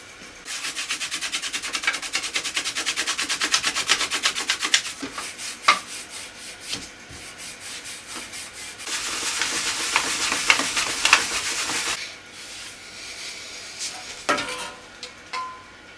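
Rusty, worn plated metal parts of a 1920s hallstand get polished by hand with metal polish, producing a close, continuous rapid rubbing and scrubbing that comes in sustained bouts with short pauses and no talking.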